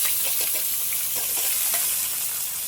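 Turmeric- and salt-coated brinjal pieces hit a pan of cooking mutton, giving a steady close sizzle with a few light stirring scrapes for the whole stretch; no one talks.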